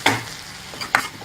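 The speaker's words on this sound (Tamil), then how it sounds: "நல்லா கிளறி விட்டுக்கலாம்." Okra (ladies finger) stirred in a pan as it fries with chili powder, garam masala and turmeric for a tamarind gravy: two quick scraping stir strokes over a faint, steady sizzle, with no talking.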